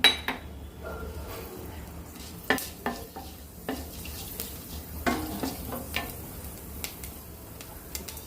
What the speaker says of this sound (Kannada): ಮೊದಲಿಗೆ ಮೆಂತ್ಯ ಕಾಳನ್ನು ಹಾಕ್ತಾಯಿದ್ದೀನಿ.